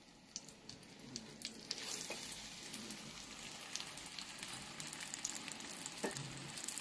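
Cutlets frying in a pan, with a steady soft sizzle and crackle and a few sharper pops throughout, fairly faint and with no voices.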